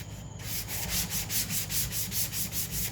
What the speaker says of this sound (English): going over it with a sponge sander to kind of get any spots that were missed